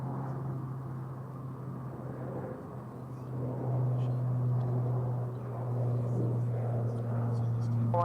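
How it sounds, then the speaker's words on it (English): An American Airlines Boeing 777-300ER taxiing across two runways at Dallas/Fort Worth airport, giving a steady, deep jet rumble with droning hum tones that swells slightly louder partway through. "Got an American 777-300AR, wasted no time crossing the 2 runways, heading over to the west side of DFW"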